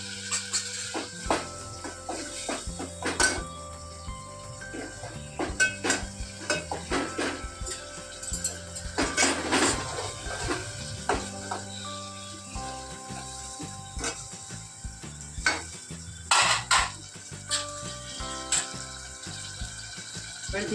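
Crushed green chili, tomato and ginger being cooked in a pan for a Kathiyawadi moong curry, with steady metallic clatter and scraping of a spoon against the pan, close and continuous, with no talking.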